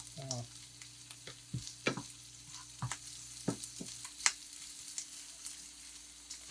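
Eggs frying in butter in a pan for a tortilla-wrapped omelet, a steady close sizzle with scattered crackles and pops across the whole stretch, no voices.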